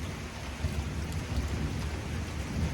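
Steady light-to-moderate rain falls during a thunderstorm that is moving off, giving an even, soft hiss of drops on surfaces with a faint low rumble underneath, fairly quiet and unbroken.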